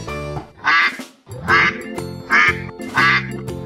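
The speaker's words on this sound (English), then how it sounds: "Duck." A sea animal toy plays a duck sound: four loud, nasal quacks in an even rhythm, each clear and close with short pauses between.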